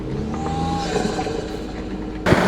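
A Toyota Tacoma Trailhunter truck drives off-road with a steady engine rumble, and a loud burst of noise comes near the end.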